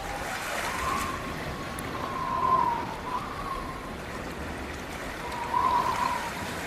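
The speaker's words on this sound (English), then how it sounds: "the sound that emanates from two microphones dangled down a drain on a rainy day" Rain is heard through two microphones dangled down a drain, giving a hollow trickle and wash of water that swells and fades gently. The sound is steady and moderate, and no one talks.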